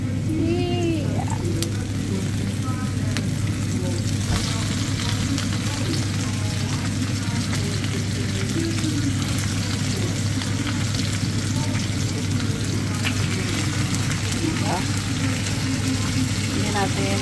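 Pork steak fries in a hot pan with a steady, dense sizzle and crackle held at constant loudness throughout, close up, with occasional faint clinks and a voice speaking now and then beneath it.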